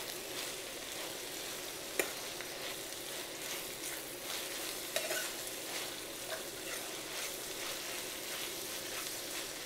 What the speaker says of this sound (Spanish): Voy a agregar el culantro, vamos a ponerle el perejil y vamos a seguir revolviendo